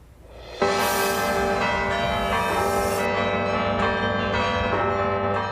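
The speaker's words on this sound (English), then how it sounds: "Bells ringing at cathedrals across the U.S." Church bells peal at cathedrals across the U.S., entering suddenly after a brief quiet lead-in and then ringing loud and sustained with layered, overlapping tones that keep sounding to the end.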